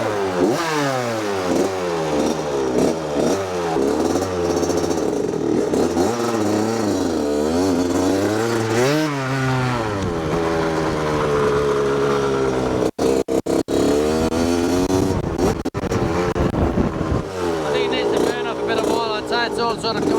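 A 1981 Suzuki RM80X two-stroke motorcycle engine runs at wide open throttle after flooding, a loud, close, buzzing whine that rises and falls in pitch with repeated revving and sputters briefly mid-run.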